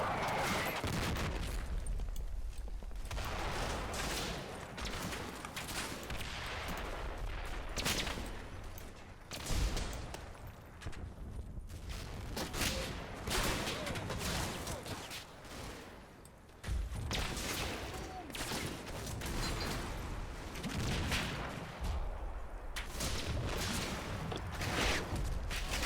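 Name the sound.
gunfire in Combat Mission Battle for Normandy video game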